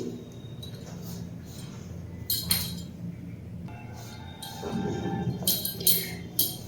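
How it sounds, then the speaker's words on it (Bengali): Ghee being stirred into dry semolina ingredients in a bowl for biscuit dough, giving soft scraping and occasional light clinks of a utensil against the bowl, quiet and close. "আপনারা দেখতেই পেলেন আমি কিভাবে ঘিটা শুকনো উপকরণের সাথে ভালো করে মিশিয়ে নিয়েছি।"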